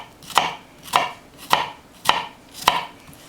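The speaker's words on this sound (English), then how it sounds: "you cut slices into the onion, but not all the way through" A knife chops through an onion on a cutting board in five crisp, evenly spaced strokes, each a sharp close knock, with no talk.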